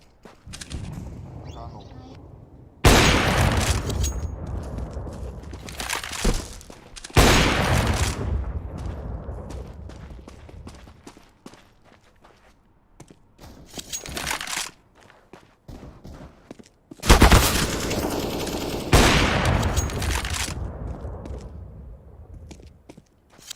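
Grenade blasts and gunfire in the video game Counter-Strike (CSGO) come as four loud broadband bursts, each one trailing off, with quieter clicks and footsteps between them.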